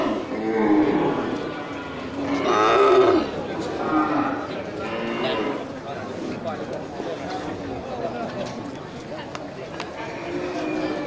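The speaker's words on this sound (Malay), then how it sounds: "gerombolan sapi-sapi Aceh ya, sapi Aceh ukuran kecil" A herd of small Aceh cattle moos repeatedly at a livestock market, with several loud, drawn-out lowing calls over a busy background of murmuring voices.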